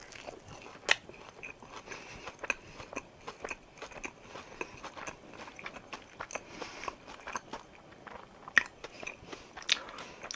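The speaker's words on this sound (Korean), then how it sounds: "제가 만든 대왕호떡 한번 맛보도록 하겠습니다" Close crunchy bites into a giant homemade Chinese pancake (hotteok), followed by repeated chewing and crackling with sharp bite spikes throughout, no voices.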